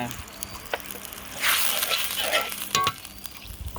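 Onion with cumin, ginger, garlic and coriander pastes, chili and turmeric frying in oil for a bottle gourd and taki fish ghonto, giving a bright sizzle that swells midway and crackles on close by, with no words spoken.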